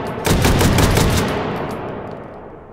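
An AA-12 fully automatic shotgun fires buckshot in a VR game, a rapid burst of about half a dozen loud, close blasts trailing into a fading echo.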